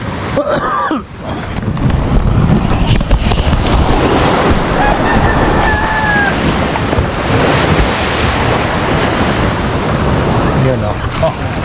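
Seaside waves break and surge at Bucana beach in Nasugbu, Batangas, a loud continuous wash of surf mixed with heavy wind buffeting the microphone, and a brief bump sounds early on.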